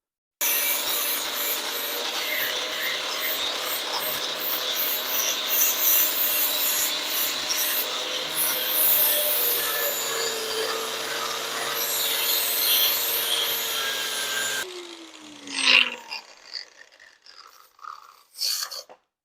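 A 4.5-inch flap wheel on a grinder scours paint and rust off a Farmall H shaft with a steady, close abrasive rubbing roar, then the tool winds down into scattered scrapes and knocks.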